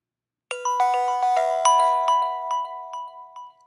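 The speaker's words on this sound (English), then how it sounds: "let's see what happens when we have an incoming call coming through to our web portal" An incoming call ringtone from a web calling portal chimes alone, a bright melodic sequence of tones repeating several times and slowly fading.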